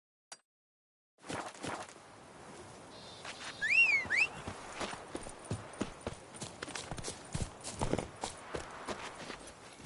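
Roach, the horse from The Witcher 3, gallops with rapid, close, rhythmic hoofbeats after a brief silence, and a short whistling tone rises over them midway.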